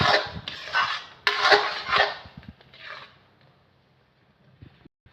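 A spoon scrapes and stirs thick black urad dal kali dough with sesame oil in a pan: several rough, close scraping strokes in quick succession, then a fading quiet with a couple of light taps.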